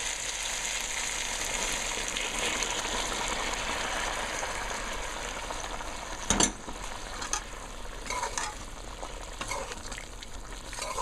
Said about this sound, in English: so I'm going to put the water in.